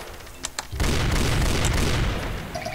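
A fragmentation grenade explodes in the MSpaint DOOM game, a sudden loud deep boom after a couple of faint clicks, rumbling on for a moment.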